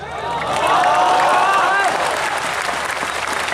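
An audience at an Islamic religious lecture in Pekanbaru breaks into loud, dense applause that swells and then holds steady, with a voice faintly audible over the clapping.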